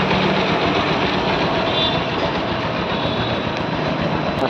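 A restored motorcycle engine idles steadily at close range, a dense, continuous mechanical rumble with a fine ticking texture throughout, fairly loud and with no voices.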